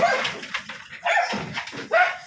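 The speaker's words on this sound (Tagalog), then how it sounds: "Ang aso." A dog barks and whimpers close by in three loud bursts mixed with whiny yips, while people talk faintly in the background.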